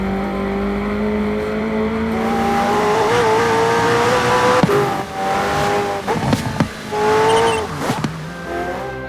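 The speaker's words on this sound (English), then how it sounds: "inside you can hear that cockpit recording that we've done" A McLaren Senna engine in a video game, heard from inside the cockpit, revving hard through gear changes with sharp pops and a loud, rising whine.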